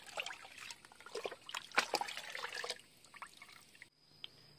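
A liquid calcium boron fertilizer mix is stirred in a container, giving soft, close sloshing and trickling splashes in irregular bursts that stop near the end.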